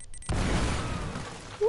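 A grenade goes off in Uncharted: Drake's Fortune with a sudden dull boom and a sustained rumbling, crackling tail lasting about a second and a half, close and loud.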